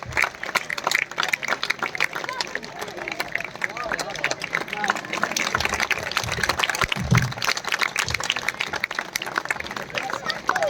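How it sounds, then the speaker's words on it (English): Audience at the Ambala airshow applauds in a steady, loud patter of clapping mixed with crowd hubbub, with a few low thumps partway through. "A huge round of applause for them."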